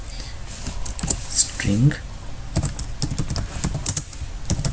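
Code typed on a computer keyboard, quick bursts of key clicks mixed in with someone speaking over them.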